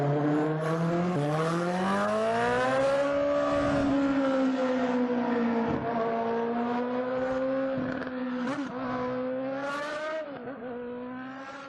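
A loud car engine revving, one long sustained roar that climbs in pitch, holds high and wavers, close and dominant throughout.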